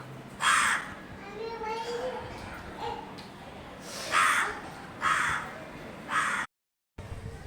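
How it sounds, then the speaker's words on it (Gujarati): A crow caws several times in short, loud bursts, with quiet background voices murmuring between the calls. "કાકડો બોલી રહ્યો છે"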